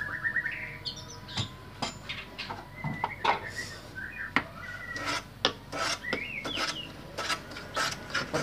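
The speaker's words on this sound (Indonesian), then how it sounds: "Yang bagian bawah juga kita serut seperti itu." A hand tool shaves a wooden lining block for an acoustic guitar in a series of short, dry rasping strokes at close range. Faint bird chirps sound in the background.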